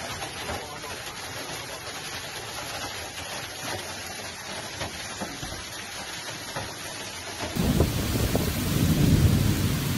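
A thunderstorm with heavy rain makes a dense, steady roar of rainfall with rumbling thunder, growing louder and fuller in the last few seconds.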